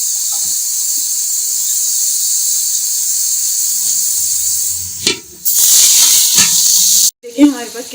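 A steady, loud hiss of water sizzling on dark-browned fried onions in a pan for a mixed vegetable pulao, followed by clattering as the lid goes on, with brief talk near the end.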